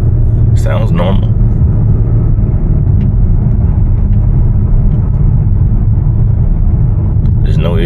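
An Audi 3.0T supercharged engine idles steadily after a belt tensioner and idler pulley replacement, a loud, close, even rumble with a brief whine near the start, under a person talking.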